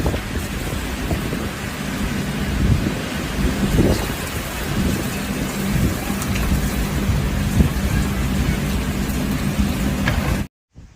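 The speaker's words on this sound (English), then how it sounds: "large raindrops began to fall with great force, pounding the ground" Heavy rain pours down hard and steady on the ground, a dense, loud roar with scattered sharper drops, continuing unbroken before cutting off abruptly.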